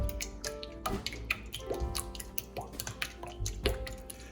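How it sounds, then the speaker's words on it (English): Eggs whisked in a bowl for a Caribbean Christmas bread pudding custard: rapid, rhythmic clinking and tapping strokes, close and fairly loud, with wet squishy texture and no talk over it. "I'm going to begin by simply whisking together my eggs here until it forms a nice consistency"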